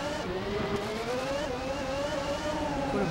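A Formula 1 race car engine in the SNES racing game Exhaust Heat drones steadily, its synthesized whine rising gradually in pitch as it accelerates, loud and alone.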